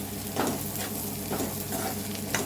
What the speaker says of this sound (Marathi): भाजी याच्यावरती टाकून व्यवस्थित परतून घ्यायची आहे आपल्याला फोडणीमध्ये